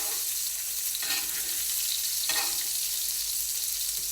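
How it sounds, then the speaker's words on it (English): A steak sizzles in a pan as melting butter with rosemary is spooned over it, a steady close hiss of frying with two brief louder bursts of spattering as the butter is poured on. "you just keep putting the butter over the top of the steak"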